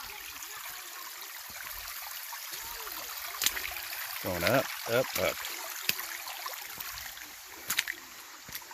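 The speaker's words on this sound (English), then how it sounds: "And that water sounds so cool." Creek water trickles and flows along a trail at Turkey Run State Park, a soft steady wash with occasional splashes and gurgles, while a person speaks briefly over it.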